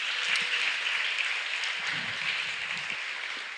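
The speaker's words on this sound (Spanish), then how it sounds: "Dale un aplauso al Señor" Church congregation applauding steadily during a Sunday service, a dense wash of clapping that holds at a fairly even level throughout, with no voices standing out.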